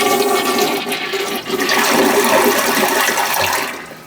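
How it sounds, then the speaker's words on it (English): Toilet flushing after being unclogged with a toilet snake, a loud, close rush of swirling water lasting several seconds before tapering off, with no talk over it. "we got a good flush there"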